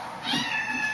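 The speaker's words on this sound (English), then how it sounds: "my cat wants to get out" A cat meows close up, one drawn-out plaintive call rising and holding for under a second, with no talk over it.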